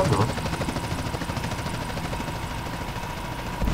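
In the video game GTA San Andreas, a helicopter's rotor beats in a steady pulsing chop with an engine drone underneath, close and continuous, no talk over it.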